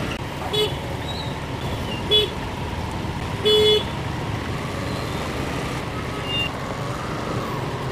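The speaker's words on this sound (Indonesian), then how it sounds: "Dan Bogor pun macet." Jammed traffic in Bogor, Indonesia, forms a dense, steady road rumble with several short car horn toots popping out at intervals, one longer honk in the middle.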